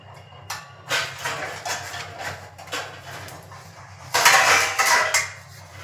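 Fried rice being served from a pot onto a plate, a series of metal spoon scrapes and clatters against dishware, close and fairly loud with a heavier scrape toward the end, no talk.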